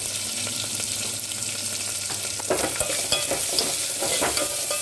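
Onions, drumstick pieces, salt, turmeric and coriander seeds fry and get stirred in a pan for a drumstick tamarind stew, a steady close sizzle with scraping and clacking stir strokes that grow louder partway through.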